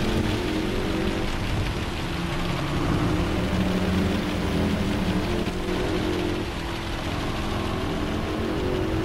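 Steady rain in the racing video game Gran Turismo 7, a dense continuous wash of rainfall blended with a car engine droning underneath throughout, loud and unbroken.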